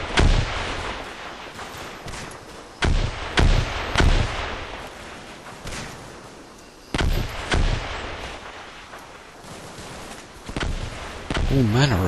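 Artillery rounds land in Combat Mission Market Garden as a series of heavy booming impacts, some spaced apart and some in quick clusters, loud and near, with no voices.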